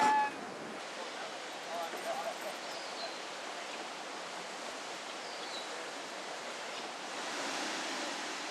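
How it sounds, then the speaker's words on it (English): Fierce ocean-like waves and rapids in the middle of the St. Lawrence River, a steady broadband rush of churning water heard from nearby, fairly faint and continuous, with no talking. "Fierce waves, like in an ocean, actually appear in the middle of the river."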